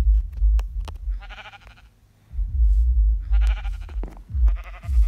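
Sheep in the Minecraft Cryptids mod bleat in three short, loud, game-style calls spaced across the clip, each a buzzy wavering bleat over low rumbling background noise.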